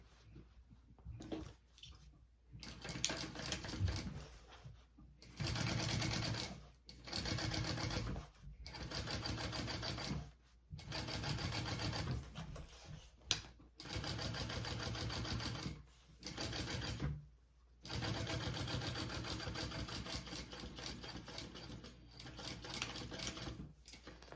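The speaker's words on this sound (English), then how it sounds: "we are going to top stitch along here" A sewing machine top-stitches through a bag flap in repeated bursts of steady whirring, separated by short pauses, close and fairly loud with no talking.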